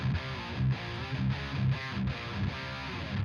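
A distorted electric guitar riff through a guitar amp and speaker cabinet, fuller and warmer in tone, with rhythmic chugging chords pulsing steadily.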